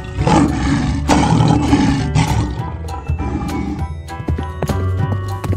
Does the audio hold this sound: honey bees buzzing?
no